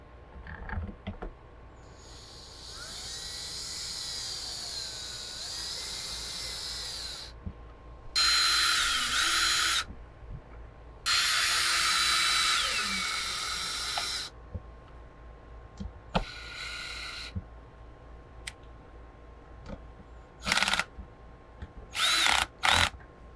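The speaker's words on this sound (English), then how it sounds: "So you will need a socket to do this screw right here." Power driver turning a screw with a 10 mm socket on a TACKlife self-retracting hose reel, several whirring bursts of different lengths, some long and steady and others short, close by with quiet gaps between.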